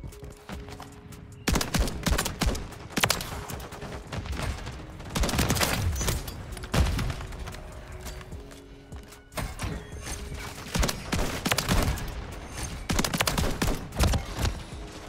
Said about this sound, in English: So hard to get things going with this shotgun.